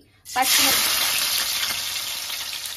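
Onions and green chilies drop into a hot pan of oil for a chicken curry, setting off a loud, sudden sizzle that stays steady and bright throughout, with faint stirring underneath.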